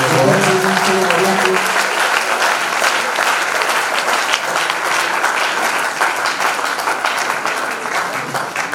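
A church congregation bursts into steady, dense applause that fills the whole stretch, loud and close, with voices mixed in and a brief tonal murmur near the start.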